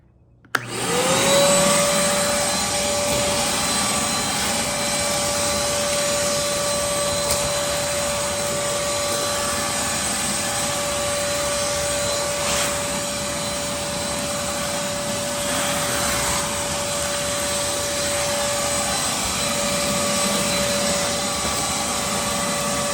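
A Craftsman 6 gallon shop vac switches on and spins up quickly to a loud, steady whining roar that runs unbroken for over twenty seconds.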